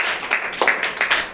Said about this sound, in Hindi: जोरदार ताली बजाइए इनके लिए